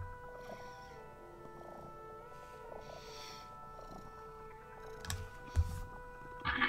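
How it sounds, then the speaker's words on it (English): A cat named Balder purrs close to a microphone, a soft, low, steady rumble under quiet background tones, with a few louder bumps near the end. "just here to purr into the microphone"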